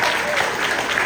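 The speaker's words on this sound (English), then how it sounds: "big round of applause for Tim and all the great things he does" Audience applause at the 2023 Van Alstyne Percussion Spectacular concert, a dense, continuous burst of many hands clapping at close range, brief and full throughout.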